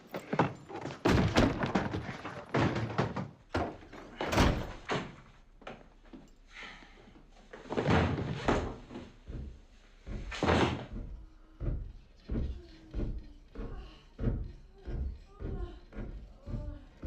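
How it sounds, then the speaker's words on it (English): Doors open and close with heavy wooden thunks and knocks, several clustered early and more spaced later, close by and mixed with people talking. "I opened the door."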